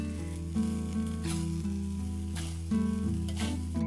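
Shallots go into a hot pan as a topping for nasi goreng rawon, giving a steady, loud sizzle with occasional stirring scrapes, close and without talk.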